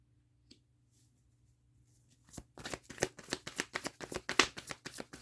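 Tarot cards being shuffled by hand, a near, quick run of crisp riffling flutters that starts after a couple of seconds of near silence.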